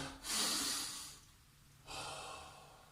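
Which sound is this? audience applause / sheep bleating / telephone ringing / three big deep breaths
three big deep breaths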